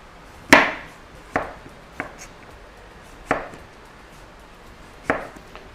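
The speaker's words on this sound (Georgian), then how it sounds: "ჭრით კომბოსტოს." A knife chops cabbage on a board for a tuna salad, giving five sharp, separate strikes spaced at uneven intervals, each close and crisp with a short ring-off.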